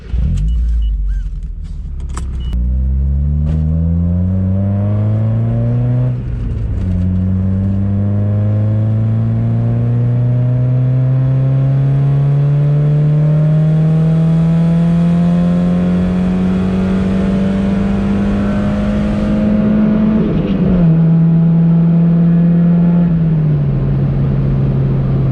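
A car fitted with a RoadsterSport 4 exhaust, baffle removed, revs loudly and close by: the engine climbs in a long rising roar, holds a high drone, then drops back with a slight dip in pitch.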